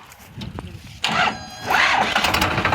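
A tractor engine cranks and catches, revving up into a loud rough roar after a brief quieter stretch.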